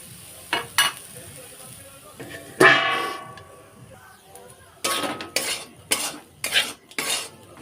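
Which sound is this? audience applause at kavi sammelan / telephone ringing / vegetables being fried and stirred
vegetables being fried and stirred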